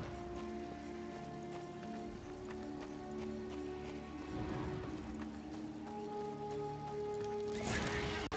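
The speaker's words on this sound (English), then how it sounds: "This is, however, a place for a horse." A horse galloping in Darksiders 2, a steady dense run of hoofbeats under a droning music-like bed with sustained tones, continuous and fairly loud throughout.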